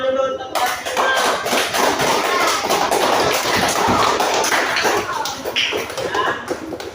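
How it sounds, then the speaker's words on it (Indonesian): A class of pupils claps for a classmate in a school lesson, with a dense, steady patter of many hands that starts abruptly and carries on loud and close for several seconds. "Kasih tepuk tangan dulu untuk Fatima."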